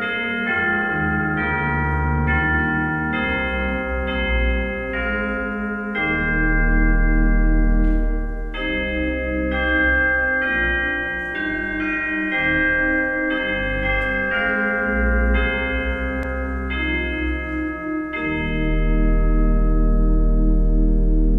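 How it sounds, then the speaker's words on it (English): Church chimes ring out a slow melodic sequence of sustained bell tones to open Sunday worship, loud and resonant throughout with overlapping decays and no talk. "Our worship now begins with the sounding of the chimes."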